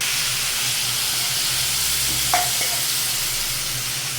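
Hot oil tempered with cumin seeds holds a spiced mixture, giving a loud steady close sizzle and hiss throughout, with one short metallic clink partway through and no voices.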